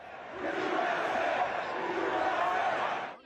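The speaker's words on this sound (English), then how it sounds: "Trump made his last Sunday Pennsylvania stop at a Pittsburgh Steelers game, where he pumped his fist to cheers from the crowd" Stadium crowd at a Pittsburgh Steelers game roaring cheers for Trump, a loud, sustained swell that rises quickly, holds for about three seconds and then cuts off.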